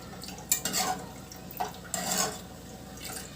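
Spoon stirring lemon syrup in a pot over moderate heat, a few soft scraping and clinking strokes at irregular intervals, close but faint against a quiet kitchen background.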